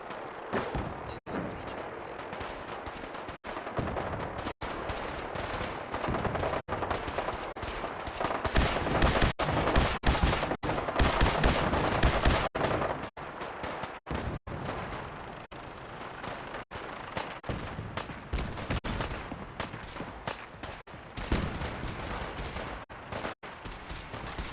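Rapid bursts of gunfire in a Fallout 4 shootout, loud and sustained with overlapping automatic and single shots, plus occasional heavier blasts, continuing without pause throughout.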